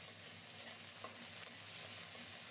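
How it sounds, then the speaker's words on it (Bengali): Onion and green chili spice paste frying gently over low heat in a pan, giving a soft, steady, faint sizzle with light stirring scrapes and no voices. "অল্প তাপে মশলাটাকে খুব সুন্দর মতো কষিয়ে নেব"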